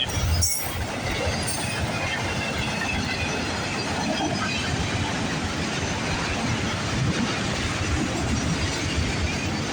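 A CN or CP freight train rumbles steadily past in Milton, Ontario, a continuous loud roar of wheels and rail noise with a brief squeal near the start, no voices.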